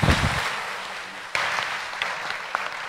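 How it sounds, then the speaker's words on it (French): Conference audience applauding, a dense, even patter of many hands clapping at moderate volume, a few sharper claps standing out near the end. "Merci beaucoup. On vous applaudit effectivement."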